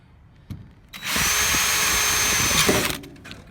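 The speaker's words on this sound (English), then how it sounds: "He's now just drilling them through." A power drill bores holes through the metal panel of a van being converted into a camper, a loud steady whine running about two seconds after a short tap, then stopping.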